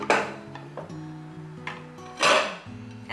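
A plate set over a pan of crispy lace-bottom vegan dumplings, with clattering dish-on-pan knocks and scrapes, several close bursts of ceramic and metal contact over a steady low hum.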